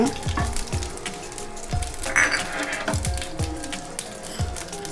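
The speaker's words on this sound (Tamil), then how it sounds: "கடுகு சீரகம் போட்டு வதக்கிக்கோங்க." Mustard seeds and cumin sizzle in hot oil for a mango rice, a steady close crackle broken by regular dull knocks of a stirring spoon.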